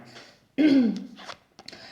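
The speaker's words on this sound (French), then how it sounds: "Désolée, j'ai une toux" A woman with a cold gives a single harsh throat-clearing cough, loud and close, with faint breathy sounds before and after it.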